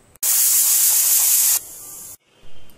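Pressure cooker on a gas stove boiling chickpeas, releasing a loud, steady hiss of steam for over a second before it cuts off, close and alone with no talk.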